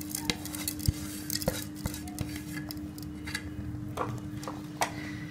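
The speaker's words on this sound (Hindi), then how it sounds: "इसको अच्छी तरह से मिक्स कर लेंगे सारे मसालों को" A spoon scrapes and clinks against a bowl while mashed potato, meat pieces and spices are mixed together for boti or shami kababs, giving irregular close taps and scrapes with no talking.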